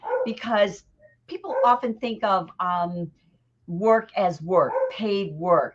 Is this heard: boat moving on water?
no